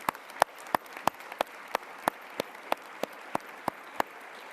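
Steady applause from an audience at a launch event, a soft bed of clapping with one distinct nearby clapper striking a sharp, evenly spaced beat throughout.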